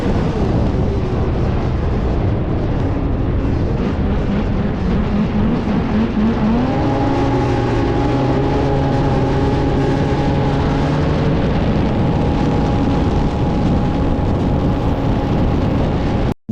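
A racing snowmobile in the LOON100 race on Portage Lake, Maine, roars close and loud at full throttle, one continuous engine note climbing in pitch partway through, with no voices.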